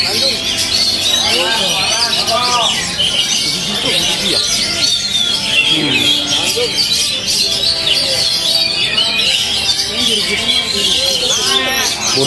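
An oriental magpie-robin (kacer) songbird sings at a bird-song contest, a continuous stream of bright chirps and trills under crowd noise and voices.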